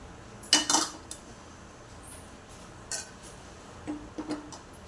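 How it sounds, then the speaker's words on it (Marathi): A spoon mixing egg and coriander in a bowl for a breakfast dish gives a few sharp metallic clinks and scrapes against the bowl, scattered and fairly close over quiet room noise. "मिक्स करून घेऊया छान वास सुटलं त्याचं"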